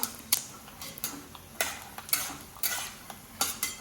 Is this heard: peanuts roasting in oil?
yes